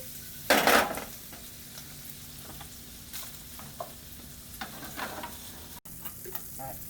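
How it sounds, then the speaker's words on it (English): Bacon fries in a pan with a soft, steady sizzle, broken by one loud utensil clatter near the start and a few fainter scrapes and clinks later. "Let those brown up, and then we will get those back into a little pot"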